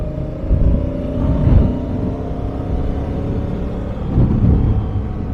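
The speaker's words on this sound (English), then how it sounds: "The engine's good, nice and smooth, nice linear power delivery." A Honda Africa Twin motorcycle engine runs at a steady cruise around 45 to 50 mph on a windy day, a smooth, droning hum with gentle swells and wind rush underneath.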